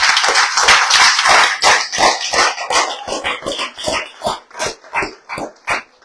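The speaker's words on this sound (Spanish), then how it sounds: "De un aplauso al Señor, hermano." A church congregation claps in rhythmic unison, a loud, dense burst settling into a steady beat of sharp claps that gradually thins and softens, with no voices.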